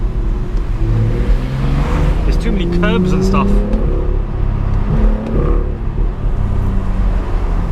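A BMW M2 driving through a city centre with traction control half off, its engine note and road noise continuous and close, with someone talking over it throughout.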